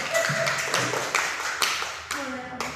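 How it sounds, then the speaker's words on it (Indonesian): Teachers at a positive-culture training session clapping their hands, a short burst of irregular claps with a voice speaking over them. "Tepuk tangan dulu untuk kita semua."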